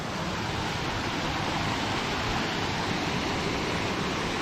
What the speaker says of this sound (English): a freaking waterfall